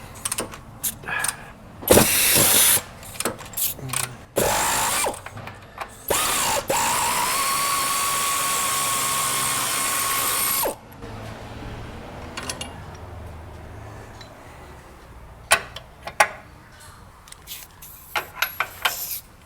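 Wrench or impact tool working loose 24mm bolts on the upper control arm of a wrecked 2012 GMC 4x4 truck, with bursts of ratcheting and a sustained whirring run up close, then scattered clanks and taps.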